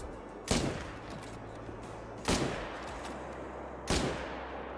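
Three sharp, loud rifle shots in a hunting game, spaced about two seconds apart, each with a quick decaying echo over a quiet low rumble, with no talking.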